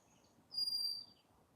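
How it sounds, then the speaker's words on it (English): A single bird gives a brief, thin high-pitched call at middle distance, clear over a quiet low background rumble. "You heard the bird?"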